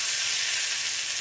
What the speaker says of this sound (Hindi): ये जो चटनी हमने रेडी की है उसमें हम तड़का डाल देंगे।